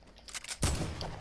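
Gunfire in a video game sounds in one sharp burst partway through, quiet and brief against a faint background.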